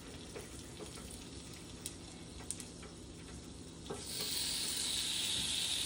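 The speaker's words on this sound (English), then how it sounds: "Take our salmon. We don't want to overcrowd. And let that sizzle." Bite-sized honey chipotle salmon pieces sizzle in a pan, a steady close frying hiss with small pops, swelling louder as more pieces go in.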